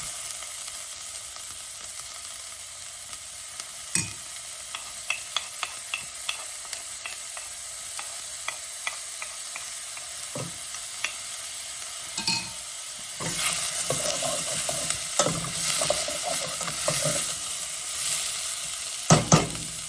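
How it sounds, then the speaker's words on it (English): Onions and vegetables sauté on low heat in a pan for lemon spinach orzo soup, a soft steady sizzle punctuated by sharp spoon taps and scraping stirs, growing louder and busier toward the end. "We're going to let that saute for a little bit."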